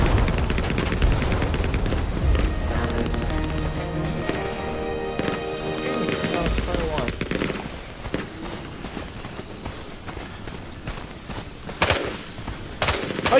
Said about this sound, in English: Artillery now.